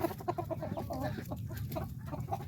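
Several chickens cluck nearby in quick, overlapping bursts, a busy chorus of soft clucks with no one talking.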